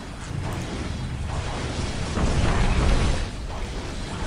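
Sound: big explosions in the video game Dawn of War

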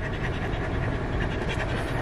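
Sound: dog panting

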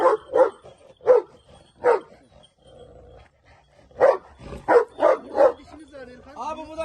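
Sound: large Anatolian farm dog barking

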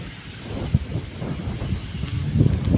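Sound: wind blowing outdoors

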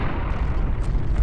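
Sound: missiles fired and exploding in video game Beat Hazard Ultra

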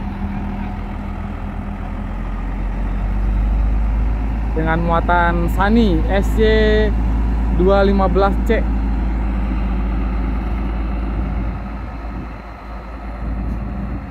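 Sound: AJT Trans truck driving onto ferry at Merak port

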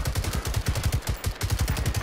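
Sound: gunfire in the video game Generation Zero

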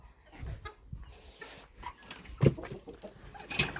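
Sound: chickens clucking

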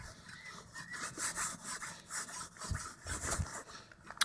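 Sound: scratching an animal by hand

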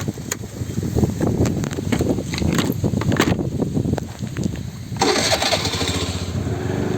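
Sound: vehicle engine driving into coconut grove

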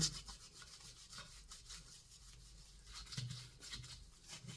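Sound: rubbing salt on an antique to polish it

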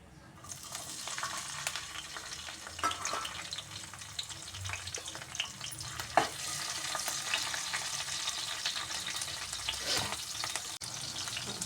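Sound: green chillies frying in a pan

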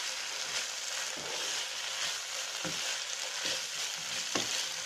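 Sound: stir-frying cabbage and capsicum on high flame

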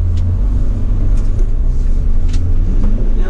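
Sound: 2013 Mercedes Sprinter 313 van engine starting and idling

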